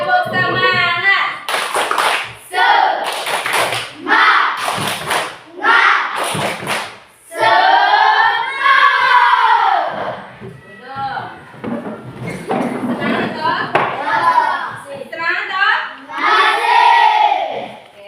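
A class of children performs a rhythmic spirit clap: quick bursts of sharp, close claps in the first few seconds, followed by the children chanting and singing loudly together.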